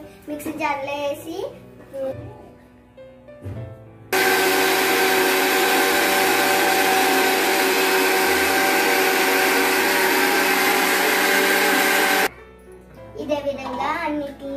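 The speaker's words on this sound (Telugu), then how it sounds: "ఇప్పుడు నేను వీటిని మిక్సీ జార్లో వేసి" An electric mixie grinder whirs loud and steady for about eight seconds as it grinds roasted urad dal, with someone talking before and after the run.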